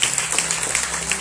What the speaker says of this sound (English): Clap for yourself one more time.